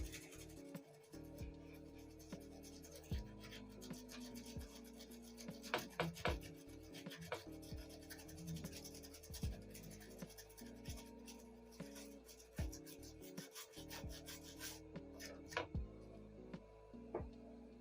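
A toothbrush with cleaning product scrubs a motherboard during a capacitor repair; close, steady rubbing and rasping strokes in an uneven rhythm with small ticks, and no talk.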